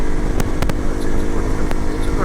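An Xpulse motorcycle rides along a highway, its engine a steady loud drone with wind rush buffeting the rider, and a voice speaking over it.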